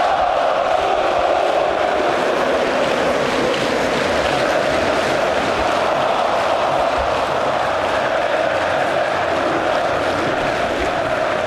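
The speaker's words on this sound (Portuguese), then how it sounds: "E a reação da torcida do Corinthians merece ser vista e ouvida." Corinthians supporters in a stadium, a dense, continuous roar of crowd noise with steady chanting and cheering, loud and unbroken throughout.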